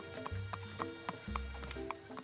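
Rhythmic clip-clop of horse hooves carrying Colonel Sanders on horseback to a school in a video game, steady trotting beats over a low musical drone with no talking.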